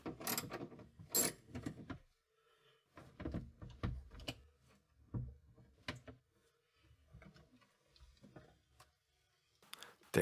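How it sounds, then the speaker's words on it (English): Tools work the bolts holding the trunk fuse box of a Jaguar XKR: short metallic ratcheting clicks and scraping bursts, close and fairly quiet, coming in uneven clusters with pauses between them. "remove the bolts holding the trunk fuse box"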